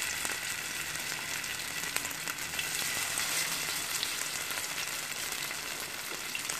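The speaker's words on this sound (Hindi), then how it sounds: "अब इसमें मैं ये कबाब एक एक करके डालूंगी और मुझे इनको फ्राई करना है।" Mutton chapli kababs, Peshawari style, fry in hot oil with a steady, dense crackling sizzle close by, continuous and even throughout with no talking.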